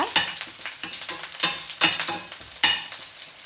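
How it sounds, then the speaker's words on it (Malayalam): Green chilies and sliced onion frying in a pan, stirred with a spoon: sharp scraping strokes come in an irregular rhythm over a steady close sizzle, with no talking. "ഇനി പച്ചമുളക് ഇട്ട് കൊടുക്കുക അതിൻ്റെ കൂടെ തന്നെ സവോള ഇട്ട് കൊടുക്കുക"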